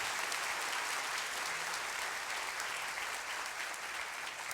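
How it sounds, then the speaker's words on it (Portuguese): A church congregation applauds together in a sustained burst of clapping, steady and fairly faint, lasting several seconds without speech. "Você pode aplaudir ao Senhor por isso?"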